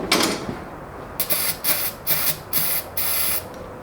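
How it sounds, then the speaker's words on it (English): Brake cleaner hisses from an aerosol can into the carburetor neck of an old lawn mower: one longer spray followed by five short, evenly spaced bursts, close and loud. "I'm going to throw some brake clean down the neck of the carb and see if I can get it to fire off"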